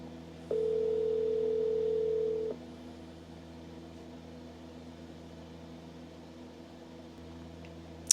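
A phone dialing out on a cold call produces a steady dial-type tone lasting about two seconds, followed by faint line hiss and low hum with no speech.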